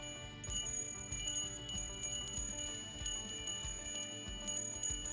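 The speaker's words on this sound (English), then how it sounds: "you can flip CalBRE to ring mode." A CalBRE mountain bike bell mounted on an e-bike rings out in a run of quick, bright dings repeated across several seconds over a dense, busy backing sound.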